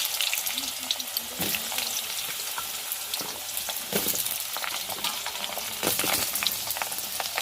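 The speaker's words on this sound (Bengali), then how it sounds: "আলুটা ভেজে নিই।" Potatoes sizzle loudly in hot oil in a wok, a dense continuous hiss broken by sharp spatters and stirring scrapes, close and steady throughout.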